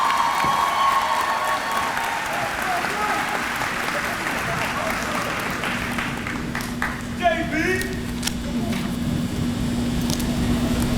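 A graduation commencement audience applauds and cheers in a large hall, steady dense clapping with whoops throughout, fading slightly toward the end as a voice speaks over it.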